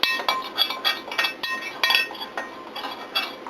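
A spoon stirs in a dish before sweet potatoes are coated in flour, making a rapid, rhythmic run of bright metallic clinks, close and fairly loud with no talking.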